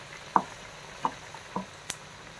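Potato vada fries in hot oil in a wok, a faint low sizzle broken by four sharp, separate crackling pops.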